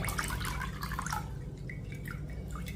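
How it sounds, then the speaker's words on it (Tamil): Soaked ragi (finger millet) sits draining in a sieve, with faint, quiet water drips and trickles close by and no one talking. "ராகியை வந்து ஜல்லடையில் போட்டு தண்ணியை நிறுத்தாச்சு."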